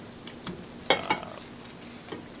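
Breadcrumbed eggplant slices fry in a pan over medium heat, giving a quiet sizzle with two sharp stirring or utensil clatters near the middle and a softer one near the end.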